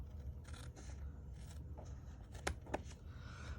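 Scissors trim overhanging paper edges on a handmade greeting card, a few quiet snips and paper rustles close by, with two sharper cuts near the end, no talk.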